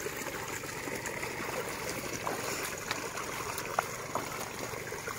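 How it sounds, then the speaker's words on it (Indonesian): Water trickles and splashes steadily onto dry soil in a cucumber planting field as it is poured by hand with a makeshift tool, a quiet, continuous stream with occasional small drips. "Jadi kita cukup disiram-siram ya, memakai alat seadanya seperti ini, supaya media tanamnya lembab"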